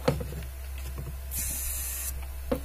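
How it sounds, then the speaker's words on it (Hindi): Foam cleaner sprays in a steady hiss into the AC cooling coil of a Chevrolet Beat, lasting under a second with faint clicks and handling noises around it and no talking. "ये देखो दोस्तों अपने दिख रहा है वहां से जो स्प्रे हमारी सामने आ गई है"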